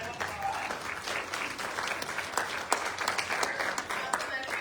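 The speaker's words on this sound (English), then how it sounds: "Give her a round of applause." An audience at a fall VIP fashion show claps in sustained, dense applause for several seconds with no pause.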